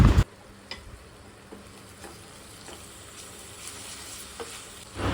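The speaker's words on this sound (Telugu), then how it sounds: "ఆనియన్స్లో అల్లం వెల్లుల్లి పేస్ట్ అనేది బాగా మిక్స్ అయ్యేలాగా కలుపుకోవాలన్నమాట" Onions with ginger garlic paste being stirred in a pan for a Muslim-style chicken curry, a steady low sizzle with faint scraping taps of a spoon, loud clatter at the start and end, no talking.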